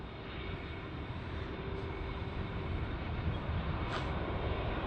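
A Delta airliner at Heathrow Airport gives off a steady, broadband jet-engine roar at moderate distance, holding fairly even throughout with a slight swell later on.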